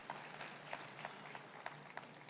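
A church congregation applauds at a distance, with faint, even clapping and a few sharper claps standing out over a soft crowd wash.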